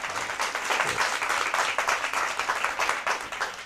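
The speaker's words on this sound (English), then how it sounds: "A round of applause for Leon Hess Comprehensive" An audience at a school math championship breaks into applause for a competing team, a dense crackle of many hands clapping steadily, loud and close, that fades slightly toward the end.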